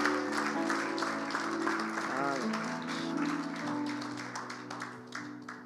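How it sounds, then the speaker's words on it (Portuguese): A church congregation applauding with steady mid-level clapping, partly mixed with sustained musical tones and a voice that glides briefly, moderately distant. "Um aplauso para o Gonçalo"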